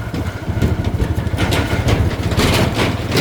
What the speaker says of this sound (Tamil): என்ன வாகனம் போனாலும் செம்ம சத்தம் சும்மா பைக் போனாலும் செம்ம சத்தம்